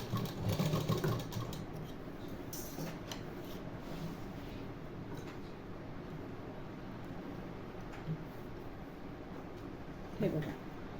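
A sewing machine stitches lining onto a fabric piece for a neck design, running as a steady close mechanical whir through the whole stretch, with a few brief handling knocks near the start and end.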